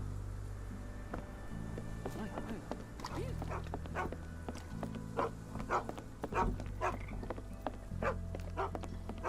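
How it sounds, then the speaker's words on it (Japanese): Two pet dogs aboard a moored boat in Sherlock Holmes The Awakened bark in short repeated bursts over a droning musical background with buzzing ambience. "船が停泊しており2頭の飼い犬がいる。"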